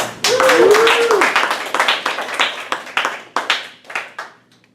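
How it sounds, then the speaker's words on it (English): A small meeting audience claps for a Toastmaster being welcomed, a brief scattering of hands that starts fairly loud, thins into separate claps and trails off to silence, with a voice briefly heard over the start. "was a sad clap"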